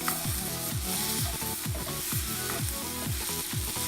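Canned, rinsed lentils sizzle in a hot pan with garlic, giving a steady, close frying hiss with a rhythmic series of stirring scrapes throughout.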